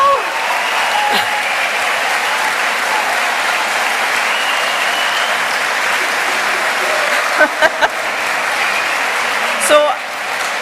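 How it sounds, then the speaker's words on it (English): Sustained loud applause from a graduation ceremony crowd honoring college graduates, a dense steady wash of clapping across the whole stretch with a few sharper claps and a brief voice near the end. "can we just give a huge round of applause for all of our"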